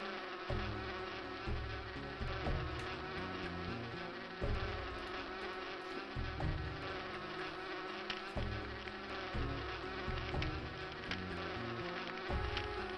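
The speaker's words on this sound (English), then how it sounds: "Fly away, little bees." Bees in a retro video game buzz in a steady, droning hum that pulses and wavers throughout, with synthesized game music beneath it.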